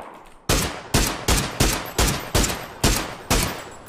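Gunfire in the video game PUBG: a rapid run of about eight loud, evenly spaced shots, each with a short decaying tail, heard up close without speech.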